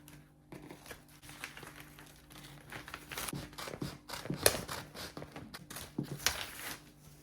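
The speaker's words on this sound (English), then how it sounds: "Up here, you cut the armhole line out." Scissors snip through blouse fabric along an armhole line in a series of quiet, close, irregular cuts and crinkles, with no talking.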